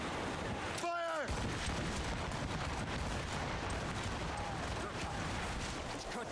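Ship cannons fire in a naval battle among icy waters in Assassin's Creed Rogue: a dense, continuous barrage of booms and crackling blasts, with a brief shouted voice near the start.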